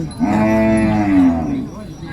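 A young water buffalo calf for sale at a Thai livestock market gives a single drawn-out, rising and falling moo, close and clear, lasting nearly two seconds.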